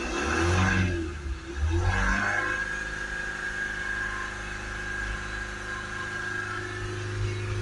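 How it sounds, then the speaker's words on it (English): A Ford Transit MK8 2.2 diesel van engine with a DPF fault revs up twice in quick succession, then drops back to a steady, droning idle. "Give it a few revs."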